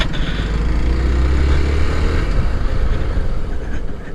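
A 2020 Hero Xpulse 200 BS6 motorcycle pulls away in first gear on a rough road, its engine a steady, loud, close drone that holds throughout the short stretch with no voice over it.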